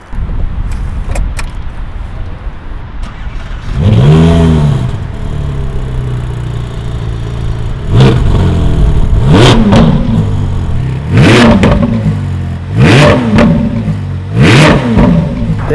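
Ferrari 488 Pista twin-turbo V8 started and revved in a supercar dealership in Dubai, with bursts of loud revving repeated several times after an initial start, plus some door and key handling noises, no talking.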